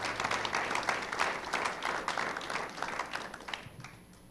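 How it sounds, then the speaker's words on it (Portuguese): An audience gives a round of applause welcoming a pastor onto a stage, with dense clapping that swells and ebbs slightly before tapering off at the end. "Recebam ele com uma salva de palmas"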